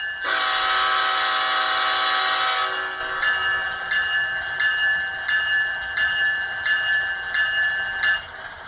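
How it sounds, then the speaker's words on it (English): Bell from a ScaleTrains Rivet Counter ES44AC model locomotive sound decoder, Canadian National scheme, rings steadily after a loud horn blast fades, a bright metallic clang repeating about every half second until it stops near the end. "Hear the bell come on with that."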